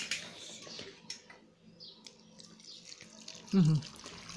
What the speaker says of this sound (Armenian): ավելացնում ենք մոտ 600 գրամ ջուր